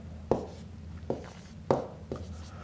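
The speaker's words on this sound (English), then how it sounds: "let me just write this a bit bigger" Pen or marker strokes write out a math problem by hand, four distinct scratchy strokes in an uneven rhythm, close and quiet with no talking.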